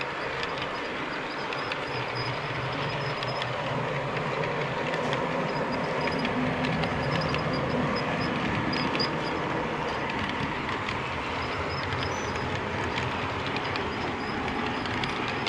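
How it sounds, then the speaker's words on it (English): A CP freight train passes on the railway, producing a continuous loud rumble with rhythmic clickety-clack and metallic clatter that hold steady and close throughout. "we're gonna pass the CP train"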